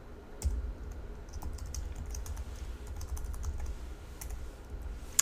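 Rapid keystrokes on a computer keyboard while code is being entered, a close, steady patter of light clicks in uneven bursts with one sharper tap at the end, with no talking.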